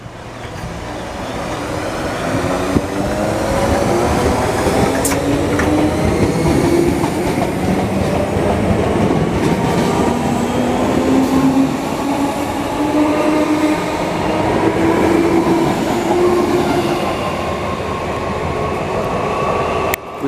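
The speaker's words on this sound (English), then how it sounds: "now ready to depart is the 1504 Great Northern service Class 313 to Moorgate via Hertford North" A Great Northern Class 313 electric train pulls out of Stevenage station on the East Coast Main Line, its steady rolling rumble and rising motor whine carrying loud and continuous for about twenty seconds.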